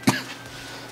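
A single short cough bursts out near the start, loud and close, then fades into quiet room tone with no talk.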